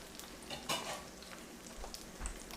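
A corn quesadilla sizzles quietly in a pan, with a soft steady frying hiss and a few faint clinks and scrapes of a utensil.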